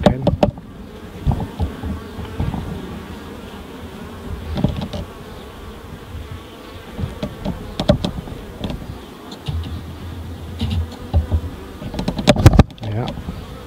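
A close, steady drone of honeybees clustered on a pollen patty at a UK hive in June, with intermittent knocks and handling bumps breaking through the buzzing.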